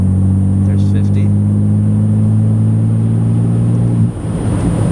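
A 2007 BMW Z4 3.0si Coupe engine pulls in 6th gear at low speed, a loud steady low drone that cuts off sharply near the end and drops to a rougher rumble.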